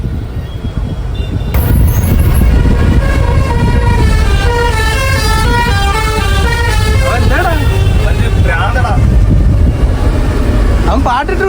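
A vehicle horn on a highway toots over and over in a loud, rapid series of musical honks like a tune, over road rumble, with a voice talking at times.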